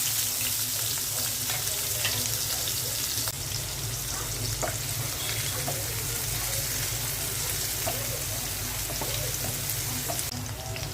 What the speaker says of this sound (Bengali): পেঁয়াজ, কাঁচামরিচ আর রসুনটা ভর্তার জন্য ভেজে নেব।